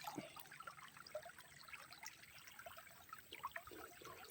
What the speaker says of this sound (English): See the bubbles coming up.